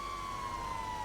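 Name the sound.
emergency vehicle sirens in a video game (GTA roleplay)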